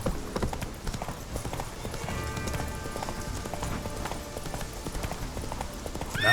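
Horse hooves pound in a steady galloping clip-clop while riding in the video game Witcher 3, with a rhythmic, continuous beat and game ambience underneath over about six seconds.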